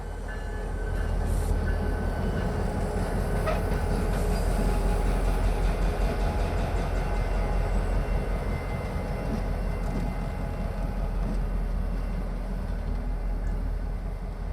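Freight train locomotive moving slowly along a siding at an ethanol plant at night, a steady low rumble with faint wheel clatter and squeal, continuous and fairly close.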